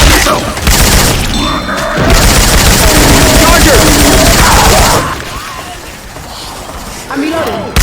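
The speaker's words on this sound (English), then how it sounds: "Hey, I'm reloading." Weapon reload from Left 4 Dead 2 with Syphon Filter sound effects swapped in: dense mechanical clicks and ratcheting clatter over heavy in-game noise, easing off after five seconds and then returning briefly.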